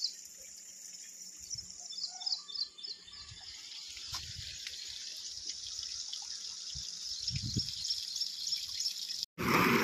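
Water pours nonstop from a borewell as a steady, even rush of splashing hiss, with faint birdsong above it and no voices.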